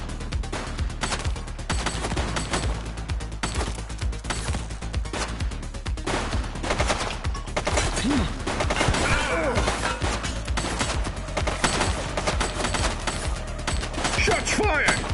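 Gunfire rings out in The Precinct police game, a sustained rattle of rapid shots with occasional heavier crashes, loud and dense throughout, with faint voices briefly mixed in.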